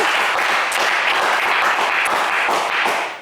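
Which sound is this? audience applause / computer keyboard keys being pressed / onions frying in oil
audience applause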